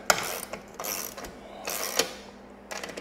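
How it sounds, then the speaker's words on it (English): Small ratcheting wrench snugging a bolt on a rear awning mount on a Ford Raptor, several quick bursts of close metallic clicking separated by short pauses, with no talking. "I love these little ratcheting wrenches."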